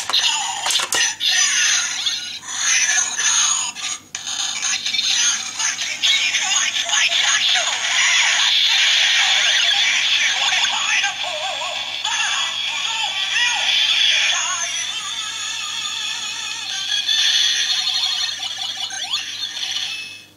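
Kamen Rider Ex-Aid DX Touken Den Gaim Gashat toy combined with Mighty Action X for a level-up, giving bright electronic chimes, synthesized jingles and announcer-style toy voice effects that play loudly and continuously for about twenty seconds, with a few clicks at the start.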